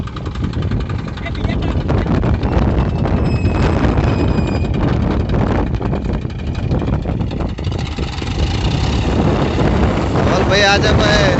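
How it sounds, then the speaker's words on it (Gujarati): A Massey tractor engine labours under load with extra weight on, its loud, rumbling drone running throughout, mixed with wind buffeting and people talking nearby. "રવિભાઈનું ટ્રેક્ટર બહુ તાકાત વાળું છે રવિ."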